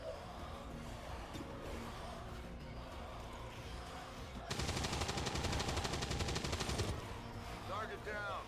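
Rapid automatic gunfire from XCOM 2: War of the Chosen, with soldiers shooting zombies: a dense, loud burst of shots lasting about two seconds over a steady game background, with speech around it.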